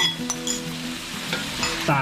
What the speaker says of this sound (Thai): ก็นำหมูลงมาผัดกับพริกแกงมะแดงนะครับ จนกว่าหมูจะสุกนะครับ